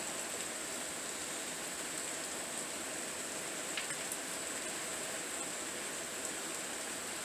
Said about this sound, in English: sorry about the rain. It decided it wanted to start raining today